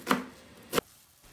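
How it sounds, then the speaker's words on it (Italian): Black kale (cavolo nero), raw, chopped into pieces with a knife on a board: two sharp, close chops about two-thirds of a second apart in a quiet kitchen. "Tritare il cavolo nero a pezzetti,"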